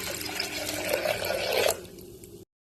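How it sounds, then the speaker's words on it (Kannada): Water pours into a pressure cooker holding broken wheat, a loud splashing gush that runs steadily for almost two seconds, then stops abruptly. "ನೋಡಿ ನಾನು ನೀರು ಹಾಕ್ತಾ ಇದ್ದೀನಿ"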